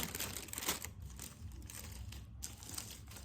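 Plastic bag crinkling steadily as bird's nest product is packed into it by hand for a customer order, close and fairly quiet with continuous rustling and soft crunches, no talking.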